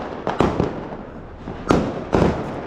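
A 12-shot Diwali firework cake fires off in a street, sharp bangs popping in uneven bursts: two quick shots early, then two more loud cracks, each trailing into hiss and echo.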